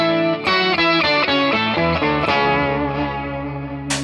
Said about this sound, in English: And maybe I turn on like this pog sound,